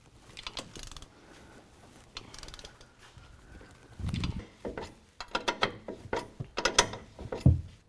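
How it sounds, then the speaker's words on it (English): A ratchet tightens strut hardware for a 6.5-inch lift kit on a 2016 Chevy Silverado 1500, with bursts of quick clicking and metallic clatter that grow busier and louder toward the end. "we're going to go ahead and torque all this hardware down to 40 foot-pounds"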